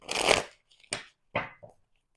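Tarot cards being shuffled and handled in a few short bursts, a longer riffle then brief crisp flicks, close and fairly quiet with silence between, no talking.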